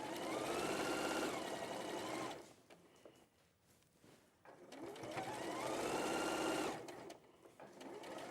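A sewing machine stitches a quilt seam for a Kaffe Fassett Guarding Geese quilt in two steady, close, whirring runs, with a quieter pause between them.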